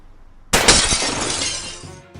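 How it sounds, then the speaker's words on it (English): A gunshot blasts out a car's passenger side window in a staged radio drama effect: a sharp, loud crack and glass shatter, followed by about a second and a half of tinkling, scattering glass fragments fading off, with no speech. "The first shot shattered my passenger side window, spraying glass across Everett's lap."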